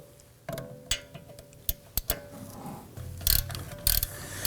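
A ratchet wrench breaking free and spinning out a bolt on the rear hub assembly of a 2018-2024 Toyota Camry, with sharp clicks and several bursts of rapid pawl ticking, close and alone.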